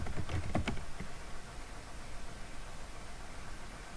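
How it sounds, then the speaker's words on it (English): A few quick computer keyboard keystrokes as a terminal command is typed by hand, clustered in the first second, close and fairly faint over a steady background hiss. "so I'll just type it in by hand"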